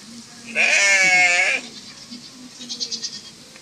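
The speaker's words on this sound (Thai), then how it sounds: "อันนี้จะเป็นแกะ เนาะ แต่ร้องเหมือนแบ่เหมือนแพะเลยนะแกะ" A sheep in an indoor petting area on the second floor of a Thai shopping mall gives one loud, wavering goat-like bleat lasting about a second, followed by fainter animal sounds and people talking nearby.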